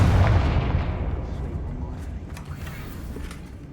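A Confringo blasting spell explodes in Hogwarts Legacy: one heavy, close boom with a deep rumbling tail that gradually fades over a few seconds, with no voices.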